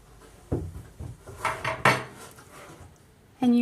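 A ladle knocks and scrapes against a pot and bowl while corned beef vegetable soup is served. Several distinct clinks and clatters come close by, with a louder knock at the end and no talk.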